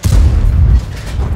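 A tank cannon fires in World of Tanks, a heavy low boom with a sustained rumbling tail that fills the whole moment, loud and close, with no voices.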